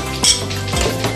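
Sinangag, Filipino fried rice, gets stirred in a pan, a metal spatula scraping and clinking in a few quick strokes over a continuous sizzle.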